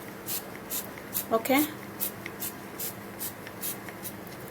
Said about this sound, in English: You spray it onto your hair like this.